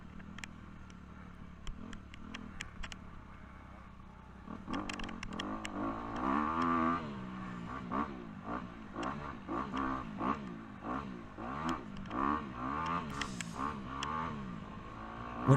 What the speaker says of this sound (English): Whenever you hear my throttle, turning on and off pretty quick like that